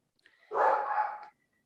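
A dog gives a single short, loud bark, one sharp burst that is close and alone, with near silence before and after.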